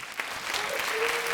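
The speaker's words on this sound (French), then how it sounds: "tout le monde va t'applaudir très très fort" An audience at a French theatre performance claps steadily in a dense burst of applause that stays even and moderately loud for the whole moment.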